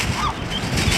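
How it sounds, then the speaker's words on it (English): Seagulls on the coast call while begging for food, harsh honking cries in quick succession over a noisy outdoor background, fairly close. "The seagulls are hounding Marie for her food"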